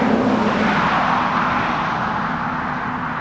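A car driving past a young horse during traffic training, a steady broad road roar of tyres and engine that stays loud and close throughout, slowly easing off toward the end.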